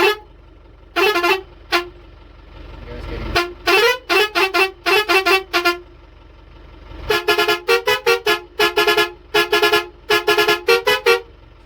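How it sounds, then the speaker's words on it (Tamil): A loud bus horn on a coach van honks in rapid, rhythmic bursts, some long blasts, then a quick patterned sequence of many short toots, close and sharp. "ஸோ ஹாரன் பொறுத்த வரைக்கும் இந்த மாதிரி ஹாரன் தான் இருக்குது"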